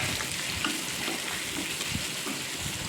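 Pieces of fish for meen varuval fry in a pan with a steady, close crackling sizzle, broken by small pops and stirring noises as the pieces are turned over.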